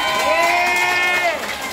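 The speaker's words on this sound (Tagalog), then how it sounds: "Yung palakpak nyo lamang" A crowd at a political rally in Baseco, Manila lets out a loud, sustained cheer that holds steady for over a second before fading slightly.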